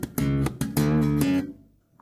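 A quick thumbed bass guitar riff, with muted dead notes between the sustained hits, played loud and close before trailing off into silence.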